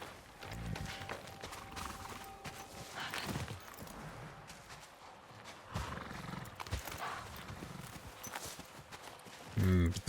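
Horse hooves clip-clop in the Ghost of Yotei video game, a steady walking rhythm of soft thuds that runs through the clip beneath voices and other game sound, with a louder burst near the end.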